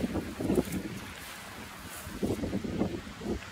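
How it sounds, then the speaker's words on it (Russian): Gusty wind on a beach buffets the microphone in uneven rushes, with a soft steady roar underneath between the stronger blasts. "Ветер хороший, достаточно."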